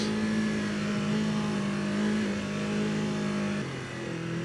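A beginner sport bike ridden off-road through a field, its engine holding a loud, steady drone that dips slightly near the end.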